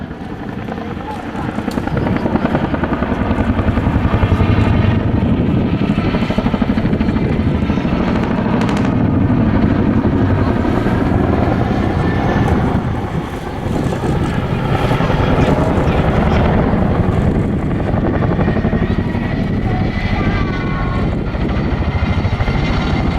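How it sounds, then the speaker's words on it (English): A Chinook twin-rotor helicopter performing an airshow flying display at Southport, its heavy rotor roar loud and continuous throughout, with wind buffeting the microphone and a commentator's voice over the top. "As the Chinook departs off the left-hand side for another wing over"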